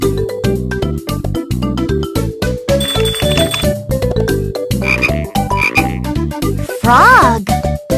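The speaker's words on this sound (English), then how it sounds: "Frog." Cartoon frog croaks from a children's animal-sounds game, a few croaks near the end after tinkling chimes, all over a bouncy, continuous music track.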